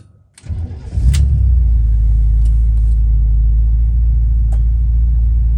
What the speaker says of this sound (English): Starts up nicely and just runs smooth as can be.